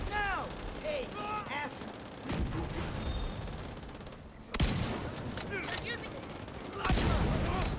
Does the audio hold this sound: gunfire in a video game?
yes